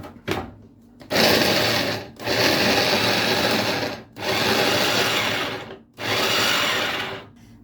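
Food processor mincing bell peppers, running in four loud bursts of a few seconds each, separated by brief pauses, with no voices.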